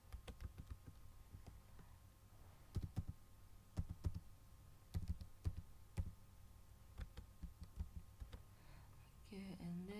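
A card number is typed on a computer keyboard in quick, light clicks that arrive in uneven bursts. The sound is faint and close, with soft background noise.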